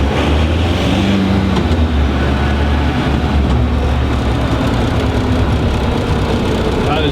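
A bus engine runs steadily after being dropped into gear, a loud low diesel-like drone heard close up and continuous throughout, with a voice talking over it.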